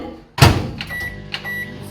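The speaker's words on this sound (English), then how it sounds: "Then put it in the microwave" A microwave oven is shut and started, with a sharp door thud followed by a steady hum and a couple of beeps close by.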